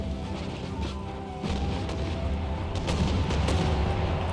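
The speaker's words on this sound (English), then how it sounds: "the artillery has a hard time firing that short" Artillery fire in the strategy game Empire: Total War, a steady dense battle rumble with low booms and repeated sharp cracks of cannon shots from mid distance, swelling louder partway through with no voices.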